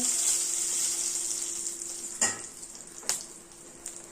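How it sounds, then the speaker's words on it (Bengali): Two bay leaves and three split dried chillies sizzle in hot oil, a bright, steady hiss fading slightly, punctuated by a few sharp clinks and stirs. "গরম তেলের মধ্যে দিয়ে দেবো দুটো তেজপাতা তিনটে শুকনো লঙ্কা চিড়ে"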